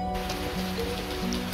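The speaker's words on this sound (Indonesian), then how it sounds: "kami sudah diguyur hujan" Steady rain falling around an outdoor charcoal kiln during wood charcoal making, a constant dense patter with a faint droning hum underneath.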